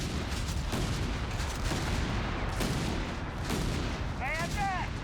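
Bofors autocannon fire in the video game Company of Heroes 3, heavy booming shots under a steady battle din, mid-distance, with a short electronic chirp near the end.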